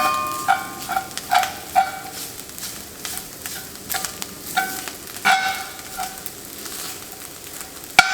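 Milk is poured into a hot cast iron pan to deglaze sausage gravy, giving a loud, bubbling sizzle with repeated spattering pops and scraping stirs throughout, close up with no talking.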